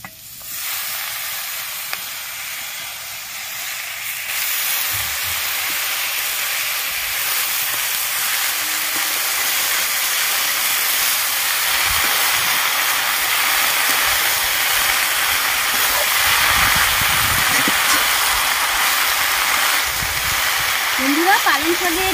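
Freshly washed spinach hitting a hot pan, a loud, bright frying hiss that starts abruptly and keeps sizzling steadily, with light stirring clatter near the end.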